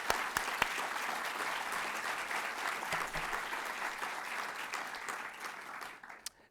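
An audience at a U.S. Department of Labor induction ceremony for Chinese railroad workers applauds, honoring their descendants. The clapping is even and sustained, heard from a distance, and tapers off at the end.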